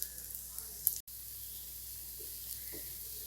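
Dosa batter spread on a hot oiled pan gives a soft, steady sizzle, a quiet hiss running throughout with a brief dropout near the one-second mark.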